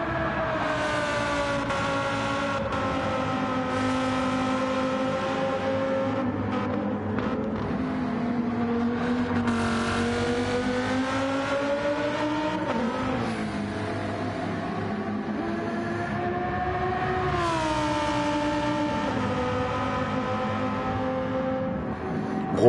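Lamborghini race car engine in a racing video game, a steady loud drone with rising and falling harmonic pitch as it revs and shifts, continuous throughout with no talk.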